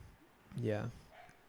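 A single short dog bark or yip, close and moderately loud, rising briefly then fading, with faint background otherwise.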